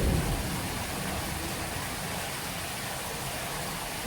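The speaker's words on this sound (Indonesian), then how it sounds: "Ya mulai gerimis." Light drizzle beginning outdoors at a fishing spot, a steady even hiss of fine rain with a soft low rumble underneath and no speech.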